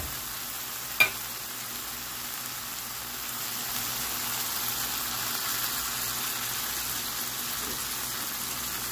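A sizzling stew with tomato paste and a splash of vinegar gets stirred in a hot pan, a soft continuous frying hiss with a single sharp utensil tap near the start.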